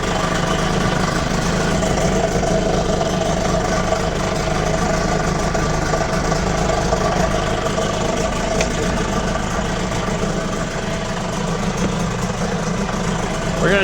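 A 1977 Johnson 9.9 horsepower outboard motor running steadily in gear with its fuel line disconnected, a continuous loud, rough drone with no pauses and no talk over it.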